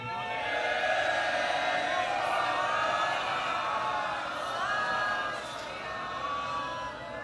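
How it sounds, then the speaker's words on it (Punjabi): A Sikh congregation at Takhat Sri Harimandir ji Patna Sahib shouting a jaikara together, a loud, sustained swell of many voices that holds strong and then eases slightly toward the end. "ਇੱਕ ਵਾਰੀ ਤੁਸੀਂ ਸਾਰੇ ਇਕੱਠੇ ਜੈਕਾਰਾ ਬੁਲਾ ਕੇ ਦੇਖੋ"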